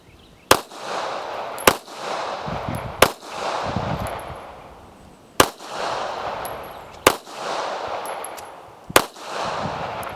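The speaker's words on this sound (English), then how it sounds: "we're going to run some more factory ammo through it. Going to go at a silhouette, kind of rapid fire." A Taurus Spectrum pistol fired with factory ammo at a silhouette target outdoors: six sharp, loud shots spaced one to two seconds apart, each followed by a decaying echo.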